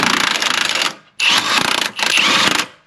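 A power tool rapidly run-driving the locking nuts on a trailer hitch bracket for a BMW G05, heard as three close, loud bursts of buzzing rattle separated by brief pauses.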